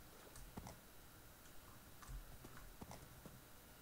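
Soft horse hoofbeats in Minecraft clip-clop in an irregular trot over a steady low background hum, fairly quiet and close.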